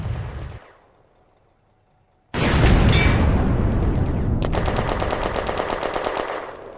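Gunfire in a WWII wargame set in May 1940 at the Remilly bridgehead as a French unit fires on a German machine gun nest. A loud burst gives way to sustained, rapid automatic fire that rattles on steadily at close range.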